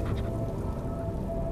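Steady rain pounding against a window in a tense night scene of a Korean thriller, a dense, continuous wash of drops throughout with no voices.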